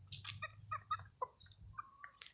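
A fighting rooster gives a quick run of soft, faint clucks, short choppy calls ending in a slightly longer note, heard at a distance in quiet surroundings.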